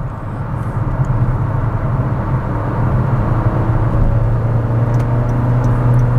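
A car cruises at high speed and maneuvers, a steady loud road and engine rumble heard from inside the cabin, with no voices.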